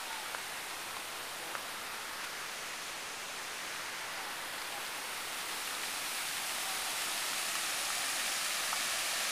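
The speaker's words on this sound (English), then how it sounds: "There's waterfalls over there." A poolside waterfall at an apartment complex gives a steady, broadband rush of falling water, fairly faint and continuous with no voices over it.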